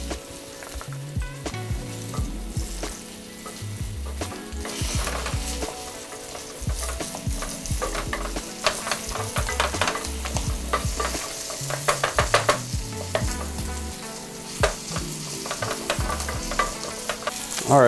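Flour stirred into melting butter in a small pot, a steady close sizzle with repeated scraping and tapping of a utensil throughout, continuous and moderately loud with no voices.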